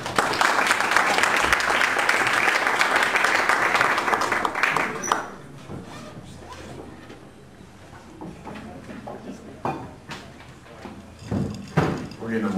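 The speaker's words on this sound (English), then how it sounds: "why don't you give a round of warm applause to Matthew Growney." An audience at a live comedy and talk show gives a round of warm applause, loud dense clapping for about five seconds that then fades to rustling, with speech following.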